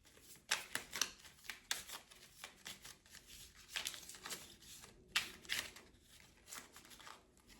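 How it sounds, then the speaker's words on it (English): Tarot cards shuffled by hand, repeated soft riffling and flapping bursts in an uneven rhythm, close and fairly quiet, with no talk. "Just do a shuffle."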